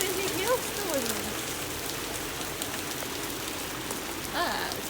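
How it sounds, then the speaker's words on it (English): Heavy rain mixed with hailstones pounds down in a dense, steady roar of drops on surfaces, with a faint voice briefly audible. "Oh my god, these are what crazy hailstones!"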